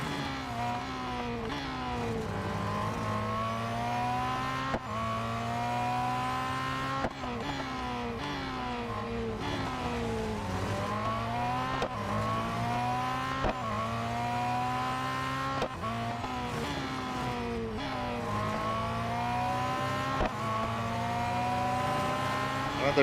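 Race car engine in Real Racing 3 roaring continuously, pitch rising and falling through repeated gear shifts and corners, with brief dips as it lifts off, steady and close throughout.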